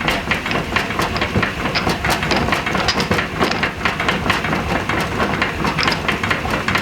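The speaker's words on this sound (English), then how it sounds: "this is the sound of droplets of honey hitting the wall of the barrel as they fly out" Droplets of honey patter against the metal barrel wall of a spinning honey extractor running at fairly high speed, a dense, steady rain-like rattle over a constant mechanical whir, with no talking.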